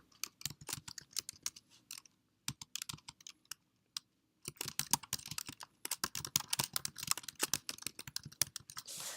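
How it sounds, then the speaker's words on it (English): Rapid typing on a computer keyboard, dense clusters of close, crisp key clicks with a short pause in the middle before a quick burst resumes, heard alone without speech. "so I'm going to type in that designation and then the parentheses, give it a colon"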